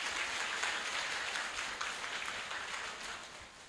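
Audience applause at a primary school variety show, a dense sustained clapping from a large crowd that fades slightly toward the end.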